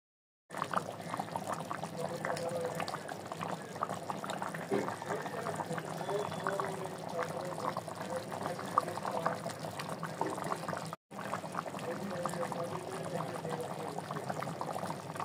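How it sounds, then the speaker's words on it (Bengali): Water pours steadily into a simmering mutton curry masala with potatoes, a close, continuous splashing and gurgling that runs for about fifteen seconds with one brief break near the end. "পরিমাণ মতো জল দিয়ে এবার খুব ভালো মতো একসাথে নাড়িয়ে নেব।"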